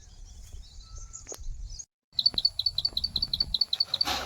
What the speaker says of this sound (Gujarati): ચકલીનો અવાજ સાંભળો કેટલો મધુર આવે.